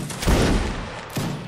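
Musket volleys crack out in the Napoleonic Wars mod of the video game Mount & Blade: Warband: two close, loud, ragged bursts of massed gunfire about a second apart.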